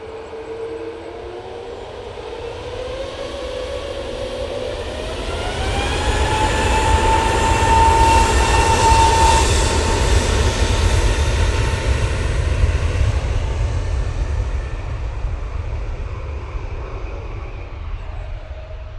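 An EasyJet airliner taking off for Alicante, a broad roar with a rising engine whine that swells to a peak midway and then holds steady, loud and continuous with no talk.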